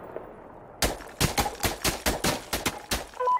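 Smoke mortar rounds fired in the video game Insurgency Sandstorm, a string of about ten loud, sharp booming shots in an irregular rapid rhythm after a quiet start.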